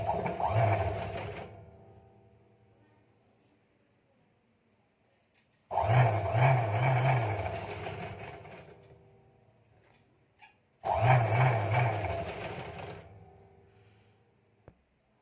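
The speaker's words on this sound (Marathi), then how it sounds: "सरळ अस्तरवर अशा पद्धतीने आपल्याला टीप टाकत घ्यायची आहे" A sewing machine runs in three loud, close bursts of a few seconds each as it stitches a seam along fabric lining, the motor whirring with a rapid mechanical chatter and quiet pauses between runs.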